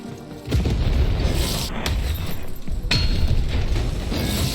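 Cannon fire in the video game Lost in Random: a heavy boom bursts in and sustains as a loud, dense rumble, with a second booming impact around the middle, continuing without speech.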